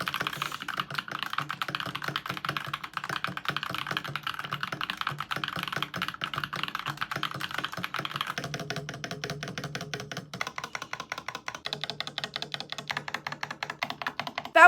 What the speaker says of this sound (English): We're just gonna move on to the sound test now.